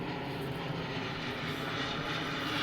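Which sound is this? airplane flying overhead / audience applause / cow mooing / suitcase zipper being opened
airplane flying overhead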